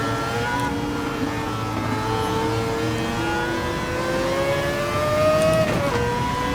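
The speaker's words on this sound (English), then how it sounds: "One of the best sounding cars ever made." Racing car engine in Gran Turismo at Spa, a V10-like high-revving tone sustained and climbing steadily in pitch as it accelerates, loud and continuous with no talk.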